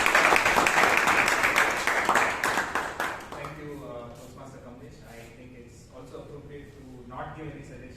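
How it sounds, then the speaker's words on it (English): Audience applause at a Toastmasters meeting in Bangalore, a dense burst of clapping that is loud at first and thins out, with voices talking over it as it fades. "round of applause for Toastmasters"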